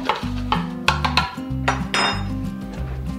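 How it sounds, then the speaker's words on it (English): A spoon stirs kosher salt, black pepper and Worcestershire powder in a bowl for a beef-rib rub. Close, rhythmic scrapes and clinks sit over a low steady hum, with no talking. "Give that a nice stir."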